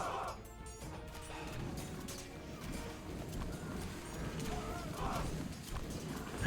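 Horse cavalry hooves in an Age of Mythology team battle, a steady clip-clop of many mounts beneath crashing combat and watchtower fire, all dense and continuous.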